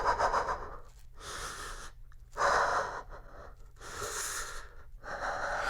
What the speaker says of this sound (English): I've recorded some breathing and some weird noises that I've just been making